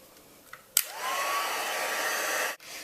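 A heat embossing tool switches on with a click and blows a steady, fairly quiet whooshing hum for almost two seconds while embossing a stamped image, then cuts off.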